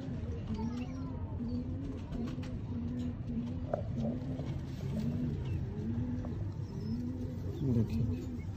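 Sialkoti chuha breed pigeons coo in a steady repeating rhythm, soft rolling calls close by against a constant background hum, with a few faint chirps from other birds.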